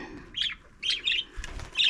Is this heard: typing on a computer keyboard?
no